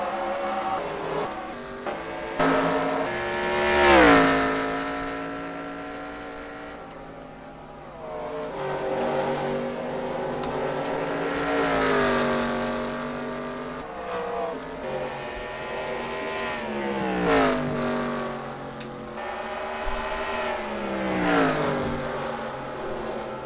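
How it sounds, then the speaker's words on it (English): NASCAR race cars in the NASCAR Racing 2003 video game roar past on track at the Toyota Owners 400, engines rising and falling in pitch as cars sweep by one after another, loud and continuous. "Denny Hamlin has catch up to the 19 car of Carl Edwards, trying to get past it right now."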